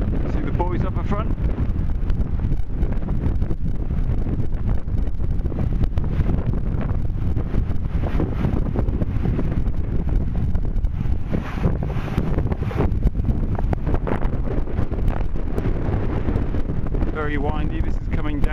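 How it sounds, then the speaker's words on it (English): Strong wind buffets the microphone in loud, gusty rushes throughout while cycling downhill on a mountain road in Spain, with a voice speaking faintly beneath the roar. "Very windy."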